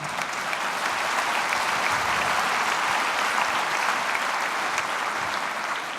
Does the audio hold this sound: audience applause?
yes